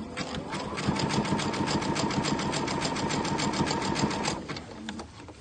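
Sewing machine running steadily as it stitches fabric with elastic using polyester thread, giving a continuous rapid needle rhythm for about four seconds before slowing and stopping, close and clear.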